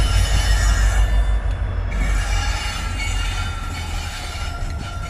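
A WDG4 diesel locomotive shunting a Rewari–Delhi–Bareilly passenger train at Bareilly Junction, a loud deep engine rumble with rolling rail noise and faint wheel squeal, steady throughout.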